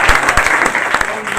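Loud, dense crowd applause at a party office inauguration welcoming a new city president, continuous rapid clapping close by with crowd noise underneath.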